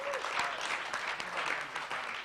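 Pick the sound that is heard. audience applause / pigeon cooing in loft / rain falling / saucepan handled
audience applause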